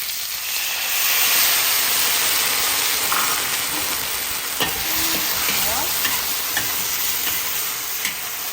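Shrimp stir-fried in kung pao sauce over high heat sizzles and hisses steadily, with scraping stirs and a few sharp utensil clicks against the pan, close and fairly loud.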